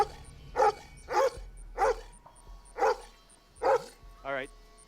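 A dog barks six times at an even, unhurried pace, each bark loud and distinct, with a low whimpering note at the end.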